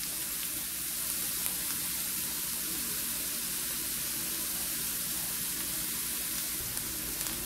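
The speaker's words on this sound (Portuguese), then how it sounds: "sempre deixando, gente, na fritadinha no alho e na cebola, que é pra largar mais o sabor aqui" Kale sautéing in a pan with garlic and onion, giving an even, continuous close sizzle and hiss at low volume with no talk over it.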